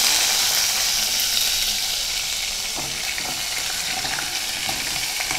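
Onion paste for a Mughlai dum biryani frying in hot oil in a pot: a steady, close, dense sizzle throughout, with faint stirring scrapes near the middle and no talking.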